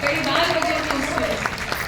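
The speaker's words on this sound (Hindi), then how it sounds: "एक बार प्रख्यात भाई के लिए भी तालियां मांगता हूँ" A crowd at a poetry recital applauds the poet Prakhyat, steady close clapping filling the whole moment with a faint hum of voices underneath.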